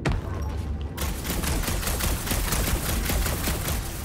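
Charged-shot gunfire in the Guardians of the Galaxy video game erupts after a brief pause into a rapid, continuous barrage of loud, crackling shots.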